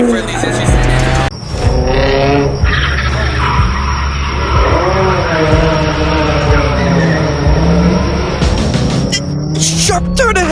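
Racing car swinging through a sharp turn at speed with tires squealing, the loud screech and engine roar sustained and close throughout, with shouting voices over it.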